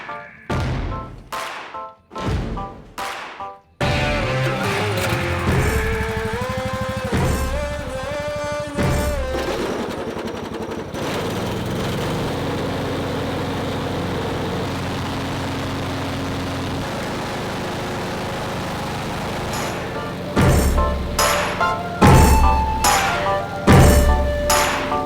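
A John Deere riding mower with a freshly replaced belt cranks through a few sputtering starter thumps, then catches and settles into a steady engine drone, with revving and rattling clatter late on, loud and close.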